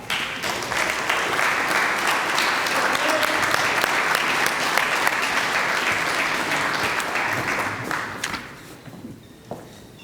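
Sustained audience applause at an outdoor groundbreaking ceremony for Museum Parc, welcoming a managing director to the podium; dense, steady clapping fills about eight seconds, then fades quickly into quiet.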